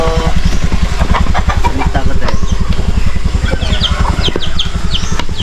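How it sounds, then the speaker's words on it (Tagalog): Chickens clucking on a farm, a steady stream of close, loud fowl calls with one bird's voice pulsing rapidly over the flock. "May mga manok"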